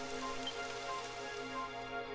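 Steady rain falling in Dragon Quest XI, a continuous even hiss of drops on surfaces with no talking, holding at a constant moderate level throughout.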